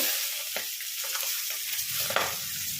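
A fish head, rohu or catla, fries in oil with a continuous hissing sizzle, broken by occasional crackles and stirring scrapes, close and moderately loud with no voices.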